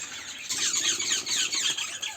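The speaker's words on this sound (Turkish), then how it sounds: "Rosella papanlarının bağırışlarını duyuyorsunuz" Shrill, high-pitched rosella parrot screeches overlap continuously, loud and close, with no talking.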